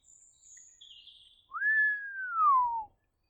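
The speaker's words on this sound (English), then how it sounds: "Whistled Diggory" A short human whistle: a few faint high notes, then a clear, loud tone that glides slowly downward before stopping.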